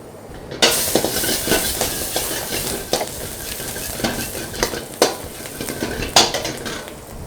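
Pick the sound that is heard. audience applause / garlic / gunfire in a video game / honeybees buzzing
garlic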